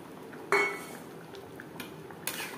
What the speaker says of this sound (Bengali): 3-4 মিনিট রান্না করে নেওয়ার পর দিয়ে দেব ভেজে রাখা পনির।